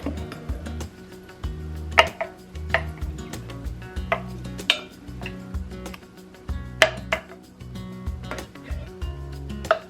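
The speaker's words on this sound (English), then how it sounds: "Okay, I'm just gonna spoon this into each one." Egg mixture spooned into greased baking cups, with repeated clinks and taps of a spoon against the cups and bowl in an uneven rhythm, close by, over faint low background noise and no speech.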